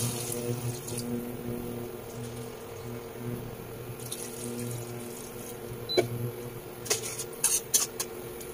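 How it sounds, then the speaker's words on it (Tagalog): Water poured into a cooking pot of liempo for batchoy, a steady low pouring and filling sound with a few sharper clinks and splashes toward the end. "Yan ang tubig."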